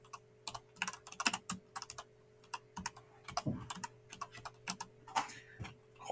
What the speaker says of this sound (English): I'm just going to hit enter once more and type in student name